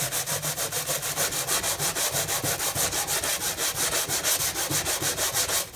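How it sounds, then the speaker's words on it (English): Aluminum foil is rubbed over the chrome fender of a 1978 Honda CT70 motorcycle, giving a close, steady rhythm of quick back-and-forth scrubbing strokes that continues without a break. "you get this kind of like black buildup as you're rubbing it with the foil"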